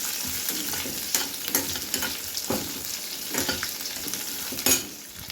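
Capsicum (shimla mirch) sautéing in oil in a kadai for kadai chicken, a steady soft sizzle broken by repeated stirring scrapes and clinks, close and fairly quiet, no talking.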